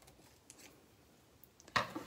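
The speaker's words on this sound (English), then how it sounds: "so we'll trim this side off" Scissors trim a side off paper for an acetate slider box, a quiet snip or two close by and then a louder, crisp cut near the end.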